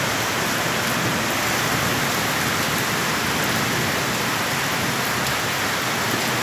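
Heavy rain pours steadily over wheat fields with ripe crops being flattened, a dense, continuous hiss that stays loud and even throughout with no voices.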